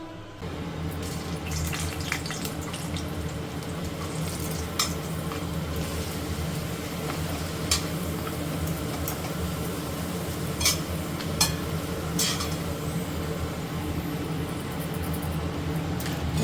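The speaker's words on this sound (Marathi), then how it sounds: "आता इथे पहिले थोडेसे पापड तळून घेते" Papad frying in hot oil in a home kitchen: a steady, continuous sizzle and crackle at moderate level throughout, with a few sharper pops and no talking.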